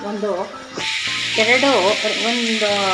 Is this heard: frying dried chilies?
yes